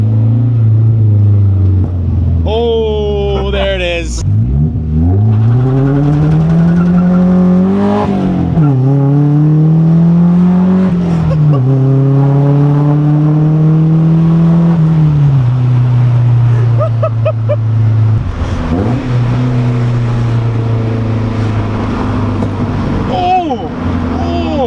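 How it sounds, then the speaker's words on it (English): A Nissan 240SX with a repaired exhaust leak revs repeatedly, engine climbing and falling through loud, sustained pulls with sharp pops and crackles from the exhaust, close up, someone speaking briefly between revs. "There's only one real way to make sure you fix the exhaust leak. Try to make it backfire."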